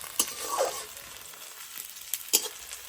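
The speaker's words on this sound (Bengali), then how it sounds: "পেঁয়াজটাকে লাল লাল করে ফার্স্টে ভেজে নেব।" Onions frying in a pan until browned, a faint steady sizzle with a few sharp clicks of a spoon, close and quiet with no voices.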